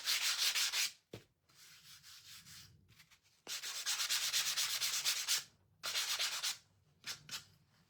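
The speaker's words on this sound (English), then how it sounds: "Let's sand this real quick." Hand sanding along the edges of a wooden decor block makes bursts of harsh, close scratchy rubbing, several strokes separated by short pauses.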